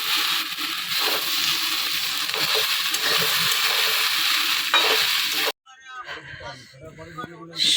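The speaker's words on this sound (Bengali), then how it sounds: "এই যে আলু ভাজা বসিয়েছি, গ্যাসের কোনো জোর নেই" Potatoes fry on a weak-flamed gas stove, a continuous close sizzle with scraping stirs, abruptly stopping before a brief stretch of quieter clatter.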